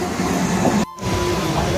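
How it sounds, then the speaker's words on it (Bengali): A train pulling into a railway station gives a loud, close, broadband rumble and rattle, cut by a brief dropout before resuming in a short burst. "ট্রেন চলে এসছে আমাদের"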